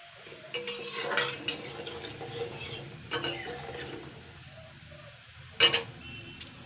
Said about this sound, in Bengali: এইভাবে কিন্তু খুন্তি দিয়ে কিন্তু নাড়তে হবে